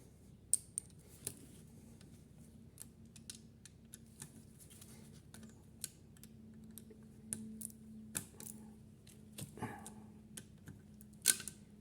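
A socket on a ratchet works on a Triumph Spitfire mk3, with faint, irregular sharp clicks and taps scattered over a quiet low hum in a workshop.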